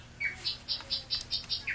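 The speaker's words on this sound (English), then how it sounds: "Sounds like mockingbirds." Mockingbirds give a quick series of bright, repeated chirping notes at a moderate distance, about seven short calls in under two seconds over a faint low background hum.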